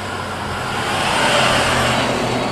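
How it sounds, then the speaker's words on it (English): A school bus passes close by on a road, its broadband engine and tyre roar swelling to a peak and easing off over a couple of seconds, with no talk. "Oh, it was a school bus."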